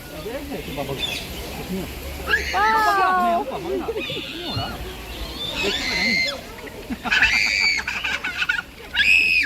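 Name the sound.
bird clucking at a mini zoo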